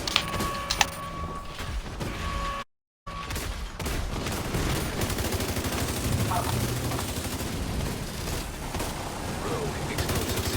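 Automated gunfire strafes in The Division 2 during a heroic raid, a dense, continuous fusillade of rapid shots that fills nearly the whole stretch, broken only by a brief gap of silence early on.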